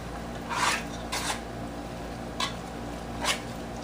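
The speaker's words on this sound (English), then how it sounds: "Stir it." Sauerkraut being stirred and fluffed in a pan, four soft scraping, rustling strokes spaced irregularly, near and fairly quiet with no talking.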